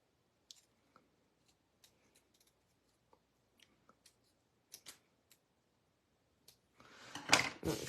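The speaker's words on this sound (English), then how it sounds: "Let's go ahead and cut these out. Okay, let's cut out this yellow one." Scissors make sparse, faint snips while cutting out paper pieces for an Easter bunny basket craft, then a louder burst of rustling and handling comes near the end.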